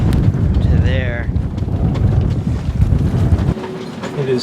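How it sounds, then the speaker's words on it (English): Strong wind at a sailboat mooring roars and buffets the microphone in heavy gusts, with a brief voice-like warble early on and the rush dropping abruptly near the end. "Can you hear that wind?"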